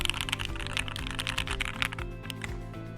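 Fast, continuous typing on a Keychron Q4 60% mechanical keyboard with Gateron North Pole switches, close up, a steady stream of deep, clacky keystrokes at an even, moderate level.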